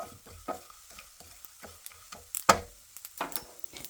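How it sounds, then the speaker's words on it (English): Fennel, mustard and coriander seeds dry-roasting in a pan, stirred with light, intermittent scraping and rattling taps plus a faint sizzle; quiet and close, with a sharper clink near the middle. "Keep stirring as they roast"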